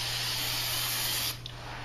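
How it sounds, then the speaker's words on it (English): Hairspray is sprayed lightly onto quilt batting while basting a quilt, giving a steady, close hiss for over a second before it cuts off, with faint room noise after. "I spray lightly across here"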